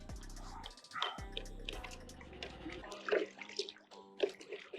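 Car shampoo is stirred into a small bucket of water, giving steady sloshing and splashing for about five seconds, close and fairly loud, with other tonal sounds mixed in.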